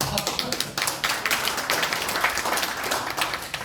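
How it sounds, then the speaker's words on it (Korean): Close, loud audience clapping at a park golf association gathering, with individual sharp claps standing out in an uneven, lively burst that keeps going throughout. "박수 한번 해줍시다"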